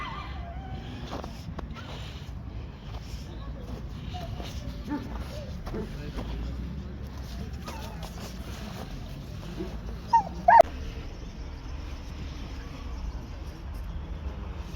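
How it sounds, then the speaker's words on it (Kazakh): A male dog offered for sale at an outdoor market for poultry, rabbits and dogs whimpers and yips faintly against a steady crowd murmur. A couple of sharper yelps rise near the end. "Куцкар тұқымды ит."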